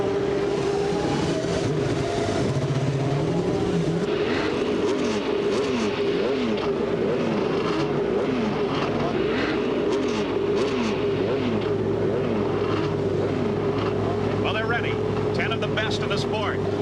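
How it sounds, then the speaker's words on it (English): IndyCar race car engines start and rev at the 1989 Marlboro Challenge, a loud layered roar of many engines with rising and falling revs, continuous throughout under a commentator's voice and crowd noise. "Gentlemen, start your engines."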